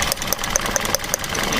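A Toyota engine idles with one ignition coil pack pulled, sounding a steady, close, mechanical run broken by sharp regular ticks about five times a second over a continuous hum, with no voices.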